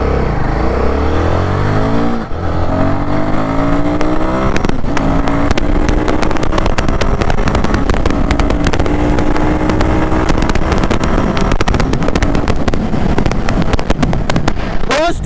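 A Royal Enfield Guerilla 450 motorcycle accelerates hard from a countdown start, the engine note climbing steadily through the gears as wind noise builds, loud and continuous throughout.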